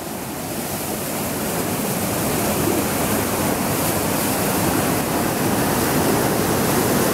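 A steady broadband rush of water falling at the Chorro de las Mozas waterfalls, continuous and fairly loud, with no voices or other distinct sounds.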